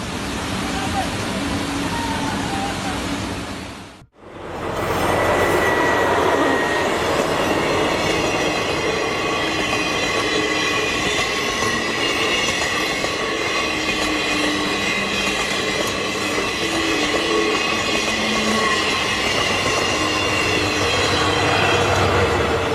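A train rumbles along the rails with a steady rolling roar and faint clatter, close and loud, after a brief cut near the start.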